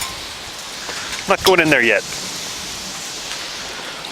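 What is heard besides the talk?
hail falling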